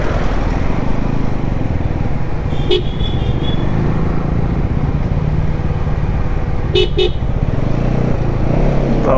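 Road traffic rumbles steadily past as heard from a riding motorcycle in heavy jam conditions between JSW and Poynad, with wind and engine noise throughout and two short horn toots, one near the start and one near the end.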